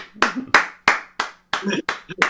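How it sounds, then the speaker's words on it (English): A small group claps for a guest at the close of a show interview, in a string of about eight sharp, separate claps that sound sparse rather than a full ovation, with a faint hum and light voices behind. "Everybody, round of applause for Daniel."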